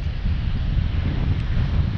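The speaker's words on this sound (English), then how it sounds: "It's a little bit windy today" Wind buffets the microphone on a cold day in Tirana, Albania, a constant low rumbling roar with uneven gusting thumps and no other sound clearly distinguishable.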